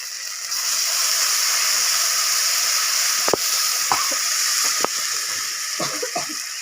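Mustard paste frying in a pan after chili paste while cooking a fish mustard curry, giving a steady, close hiss and sizzle with a few sharp clicks of stirring near the end.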